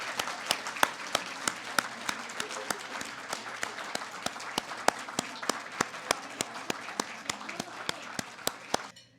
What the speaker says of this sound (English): please join me in a final round of applause for all of them